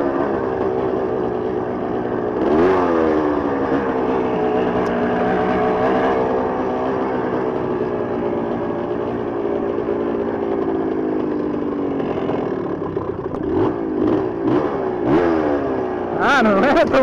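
Two-stroke Yamaha DT dirt bike engine on a trail ride, a steady buzzing drone with rising and falling revs across the whole stretch and sharper throttle blips near the end.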